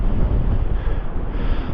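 Strong wind batters the microphone on a Bristol Channel beach the day after Storm Amy, a loud rumbling buffet of low roar that gusts unevenly throughout with no voices.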